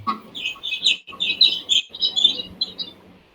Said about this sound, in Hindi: बड़ी चिड़िया चहक रही है तेरे।